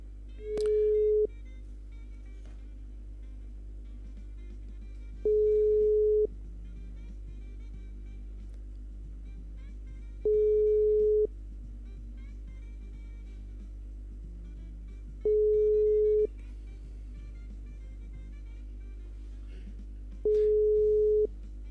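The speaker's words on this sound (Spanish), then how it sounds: "vamos a llamarlo por teléfono" Telephone ringback tone repeating five times at steady intervals of about five seconds, each short burst clear over a low constant hum on a radio call-in line.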